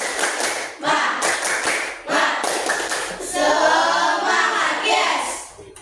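Children perform a rhythmic spirit clap (tepuk semangat) at a school morning activity, giving bursts of patterned clapping with pauses between them, then a chanted group response, all fairly close.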